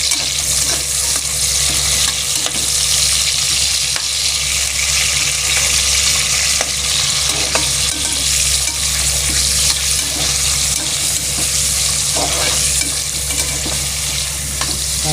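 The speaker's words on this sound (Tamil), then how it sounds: "வெங்காயம், தக்காளி, ஒரு பச்சை மிளகாய் போட்டு வதங்கட்டும்" Onion, tomato and a single green chili sauté in a hot pan, a loud, dense, continuous sizzle and crackle running unbroken throughout without any talking.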